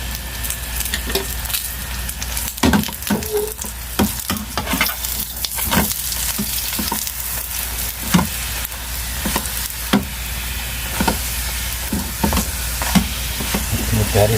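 Besan roti cooking with ghee on a hot griddle, a steady close sizzle and frying hiss with occasional stirring and scraping clicks throughout.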